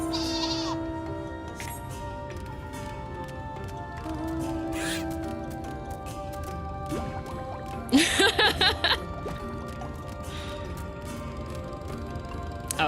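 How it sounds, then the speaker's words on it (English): Sheep mount bleating in Final Fantasy XIV, with a burst of wavering bleats near the middle over quiet game music and ambience, plus a few softer calls elsewhere. "The sheep mount, so cute."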